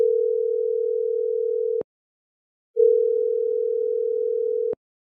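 A phone call ringback tone, two long steady electronic beeps, each about two seconds, separated by a silent gap, clean and loud with nothing else heard.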